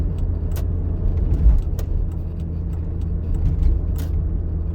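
A car is driven on a driving-exam route, steering around a deep pothole, with a steady low engine and road rumble inside the cabin and faint clicks and rattles above it.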